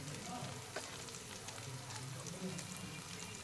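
Ground spices, coriander and cumin powder with salt, frying in a pan over low gas, a steady faint sizzle with light stirring scrapes.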